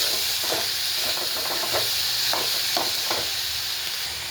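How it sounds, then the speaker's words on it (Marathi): Matki sprouts being stirred into a masala frying in oil for matki bhaji, a steady close hissing sizzle broken by repeated soft scraping strokes of a spoon through the pan. "आता मसाल्यामध्ये छान असं हलवून घेऊया"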